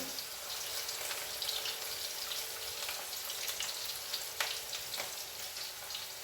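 Cumin seeds, onion and chopped garlic crackle and fry in hot oil, a steady close sizzle with scattered small pops and no voices.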